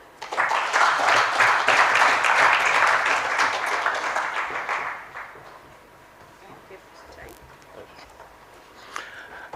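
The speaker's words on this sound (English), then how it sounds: "Can we clap for her?" An audience at a sports-games symposium and delegation meeting claps in a dense, loud burst of applause that lasts about five seconds and then fades to scattered claps and room noise.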